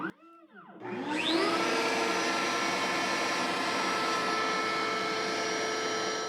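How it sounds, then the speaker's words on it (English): A CNC router and its dust collector start up together and settle into a loud, steady roaring whine with a constant high tone that carries on unbroken, close by and without speech. "Hit start, and it's going to start the dust collector and the router and start running the job."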